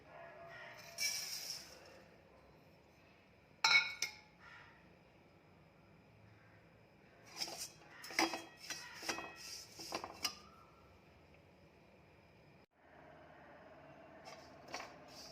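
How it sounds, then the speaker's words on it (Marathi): Oats dry-roasting in a pan: quiet, intermittent bursts of scraping and light metallic clinks as a spoon stirs, with near-silent gaps between them. "आता आपण ओट्स भाजून घेत आहोत।"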